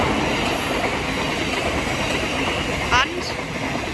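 A Thameslink Class 700 electric train passes on the Brighton Main Line at Sydenham, a steady, broad rush of rolling-stock noise with a brief squeal near the end.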